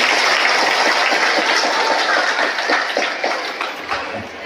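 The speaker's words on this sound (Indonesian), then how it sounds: "Tepuk tangan dong." Loud sustained applause from a seated audience at a talk, a dense roar of many hands that gradually thins and fades toward the end.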